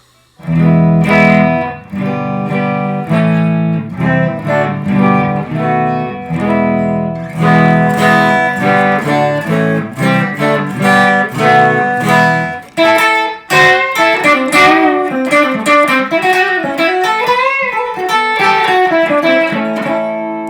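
Clean electric guitar on the neck pickup with no effects, part of a Gibson Les Paul versus budget Chinese guitar comparison: sustained chords and picked single notes ring out steadily and close for about twenty seconds, with a brief pause near the end.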